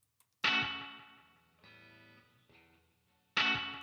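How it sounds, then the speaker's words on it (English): Electric guitar through the Twang reverb preset in Guitar Rig, a Fender-style reverb: two bright struck chords bloom and ring out into long reverb tails, with a softer sustained chord between them, heard alone. "I'm just using Guitar Rig, and I'm using the Twang reverb preset, almost like a Fender"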